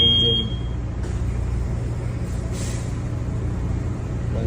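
A ship's main engine runs during a standby test in bad weather, a steady low mechanical drone with a harmonic rumble. It holds constant throughout, with a brief high tone at the start and faint higher hiss bursts.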